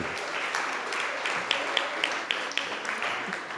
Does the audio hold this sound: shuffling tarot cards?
no